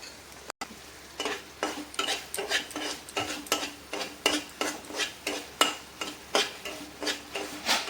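Semolina roasting in hot ghee over a low flame is stirred in a pan, giving a soft background sizzle under a regular rhythm of a dozen or so scraping strokes, close and fairly quiet.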